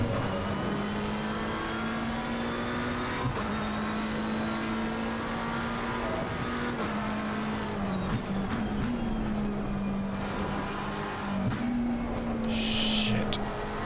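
McLaren 720S GT3 race car engine in Assetto Corsa Competizione at Paul Ricard, a steady droning hum held near constant with brief dips, continuous and moderately loud under faint background noise.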